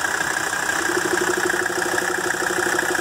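A 1983 300D diesel car engine idles steadily up close, with a continuous, even knock-tinged rumble that holds at a constant level and shows no blow-by.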